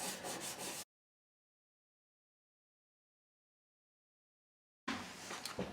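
Pastel colour rubbed into paper for a patchy textured mark, heard as close, soft scratchy rubbing in two short bursts, one at the start and one at the end, with a long stretch of silence between.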